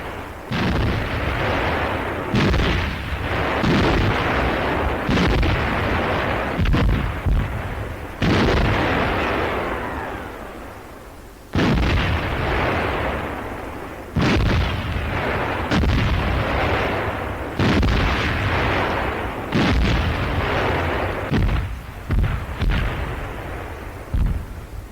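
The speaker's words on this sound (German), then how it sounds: "Die englische Artillerie legt Sperrfeuer." English artillery firing a barrage in wartime combat, heard as a long run of loud, close booms and blasts, some in quick succession and others spaced a few seconds apart, each followed by a rumbling decay.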